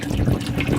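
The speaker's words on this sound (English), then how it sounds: "Once the water gets past a certain level, it'll start sucking up water. See it recirculating right there." Water churning and trickling from a boat live well recirculator pump, a short steady gurgling splash heard up close with no talking.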